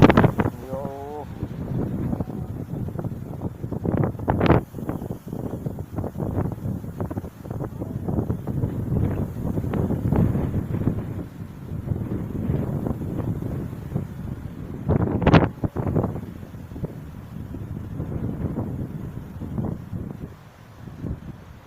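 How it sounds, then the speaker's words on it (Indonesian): A very strong wind blows hard in a village and rumbles continuously into the microphone for about twenty seconds with gusty swells. People talk throughout. "Baru kali ini angin yang terlalu kencang."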